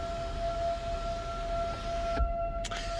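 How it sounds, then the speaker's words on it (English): A small town's noon civil defense siren test wails as a steady, sustained tone in the distance, holding level behind a quiet, still setting inside a 2020 Mercedes-Benz CLS 450. "You hear that siren in the background."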